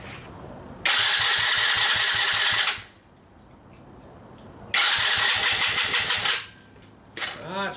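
A Coleman AT125UT ATV that won't run cranks over in two long bursts of rapid starter chugging, each about two seconds, separated by a quiet pause, with a short sputter at the end.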